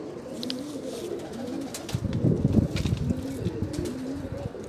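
Golden-patterned pet pigeons coo close by in a soft repeating low rhythm, with a denser, louder stretch of cooing midway and faint rustling or wing sounds.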